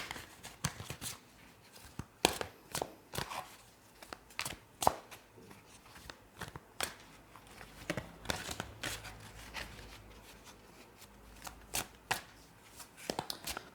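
Tarot cards shuffled by hand during a card reading, a steady run of crisp riffling and flicking bursts with soft slaps between them, close and moderately quiet with no talking.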